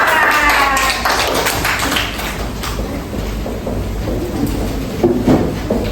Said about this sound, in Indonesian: Tepuk tangan untuk Azalea.